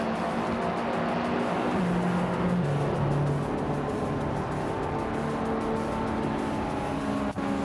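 Race cars in a racing video game, including a Porsche 944 Turbo, Mazda Miata and Honda Integra, roar continuously around a tight track. Dense engine drone with shifting pitches, with no voices over it.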